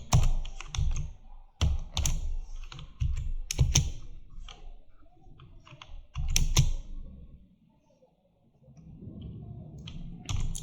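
Rapid clattering keystrokes of code being typed on a computer keyboard, close and crisp, coming in irregular bursts with short pauses and a quieter lull near the end.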